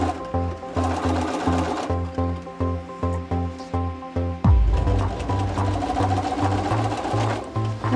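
Sewing machine straight stitching a lightweight wool pant cuff, first in short rhythmic bursts of rapid needle thumps, then running steadily and louder, close by with no talk.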